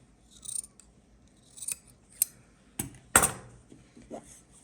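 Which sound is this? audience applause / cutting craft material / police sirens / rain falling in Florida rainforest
cutting craft material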